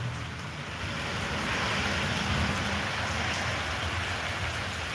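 Steady rain falls throughout on an all-day rainy day, making a dense, even hiss that holds constant and fairly loud, with no talking.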